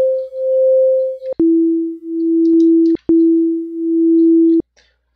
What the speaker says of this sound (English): And now it sounds more like a ringing or buzzing kind of sound.